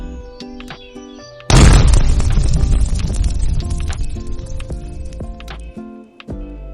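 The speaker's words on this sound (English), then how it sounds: "suddenly the sorcerer himself was consumed by flames and turned to ashes" Sudden booming fiery burst as a sorcerer is consumed by flames, a loud whoosh-and-blast that hits after a quiet musical opening and then decays slowly over background music.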